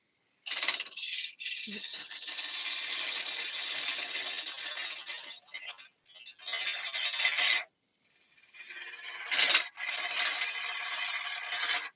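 Gouge cutting a yew bowl on a wood lathe, a steady hissing, rasping cut that stops and restarts in several passes, close and fairly loud.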